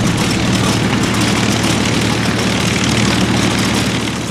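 A propeller-driven warplane drones steadily overhead in a World War II setting, its engine a continuous loud, broad roar with a low rumble that holds constant throughout, no voices present.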